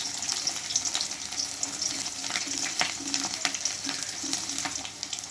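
Long-cut garlic cloves frying in hot oil with cumin and curry leaves for a brinjal fry, a steady close sizzle and crackle with occasional stirring.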